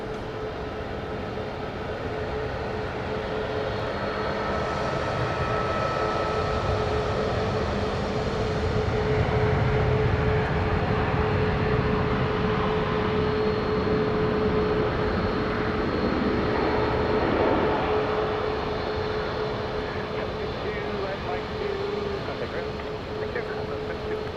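A Southwest jet taxis in at Dallas Love Field after arriving from Phoenix. It gives off a steady, moderately distant engine drone with a constant whine, and it swells slightly midway before easing off.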